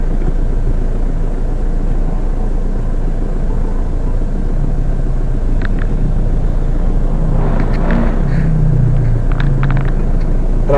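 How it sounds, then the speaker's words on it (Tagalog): Steady low rumble of heavy road traffic passing overhead at night in the Philippines, a continuous dense drone with occasional louder vehicles swelling near the end, no voices. "Traffic sa taas mga ka-channel, oh."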